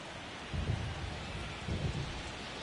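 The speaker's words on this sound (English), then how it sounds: "This rain is not letting up." Heavy rain pours steadily during a baseball game, with two low thunder rumbles rolling through and a sharp crack at the very end.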